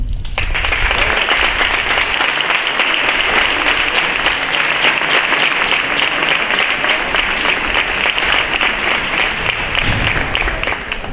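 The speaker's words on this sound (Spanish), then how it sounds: "Y creo que este aplauso valga de reconocimiento." Loud, continuous applause from an audience at a music-band tasting event, starting abruptly and holding an even, dense clapping texture throughout without fading.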